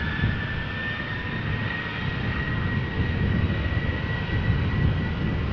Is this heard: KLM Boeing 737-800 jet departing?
yes